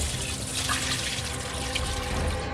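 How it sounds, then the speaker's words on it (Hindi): Dirty water from washing potatoes being poured out at home, a steady continuous splashing rush running the whole moment, close and fairly loud with no talking. "देखिए, मैं ये सारा पानी गिराने जा रही हूँ।"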